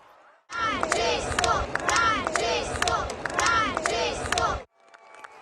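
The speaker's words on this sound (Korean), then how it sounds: "프란치스코 교황이 휠체어에 앉은 채 이탈리아 로마 제멜리 병원 10층 발코니에 나타나자 수백 명의 신도들이 환호했습니다" Hundreds of faithful outside Rome's Gemelli hospital cheer and shout for Pope Francis on a balcony, a loud, sustained crowd roar of overlapping voices that starts abruptly and cuts off near the end.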